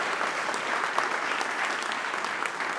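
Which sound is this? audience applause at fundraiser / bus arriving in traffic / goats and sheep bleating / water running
audience applause at fundraiser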